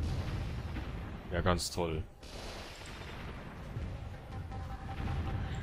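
Gunfire and mini-rocket fire from the real-time strategy game Warzone 2100 form a steady, dense wash of battle noise throughout, with distant-sounding shots and blasts blending together, and someone briefly speaks over it.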